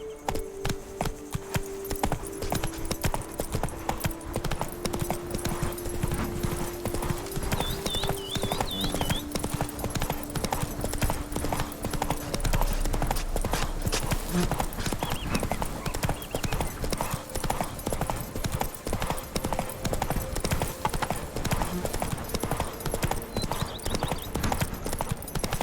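Horse hooves clip-clop at a fast, steady rhythm in the Witcher 3 game, close and continuous over ambient game sound, with a brief voice and faint harness jingle.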